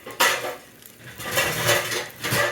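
A metal lid set onto a frying pan while cheesy French toast with kimchi cooks, giving a close clatter of cookware, a few knocks and scrapes and a lingering ring, with no talk.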